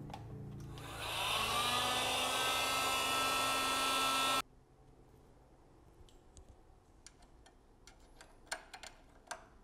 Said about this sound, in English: to shrink the heat shrink using a heat gun rather than a soldering iron